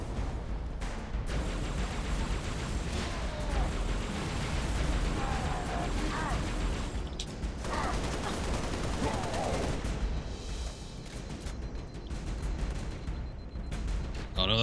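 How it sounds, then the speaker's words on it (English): Fuel rod gun firing in the video game Halo: Reach, dense bursts of energy blasts and explosions in a loud, continuous stream of combat noise that barely lets up. "That was the rocket launcher. The fuel rod gun."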